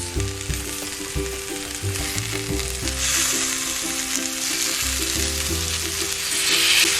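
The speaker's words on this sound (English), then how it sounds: "Let's add our tomatoes." Tomatoes hit a pan of frying mackerel, setting off a loud, steady sizzle with some stirring clatter and a faint rhythmic tone underneath, continuous and close throughout.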